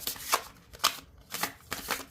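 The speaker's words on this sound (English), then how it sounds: "these cards are kind of hard to shuffle" A stiff, grippy deck of oracle cards is riffled and shuffled up close, giving four quick papery bursts of flicking cards in an otherwise quiet room.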